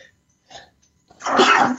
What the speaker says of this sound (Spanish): me salió un estornudo